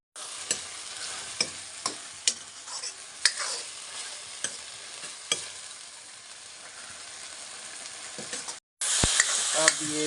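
Spices and vegetables frying in oil for a village-style soup: a steady close sizzle with repeated sharp scrapes of stirring, then a brief pause and a louder burst of sizzling at the end.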